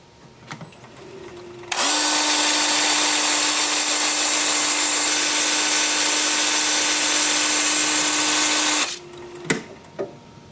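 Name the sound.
2-inch sanding disc sanding an ironwood goblet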